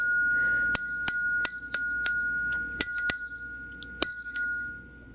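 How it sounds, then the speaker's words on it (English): A small unicorn bell rung repeatedly, sharp bright tings in irregular clusters of strikes, each ringing briefly over a quiet room. "I'm just gonna ring the unicorn bell"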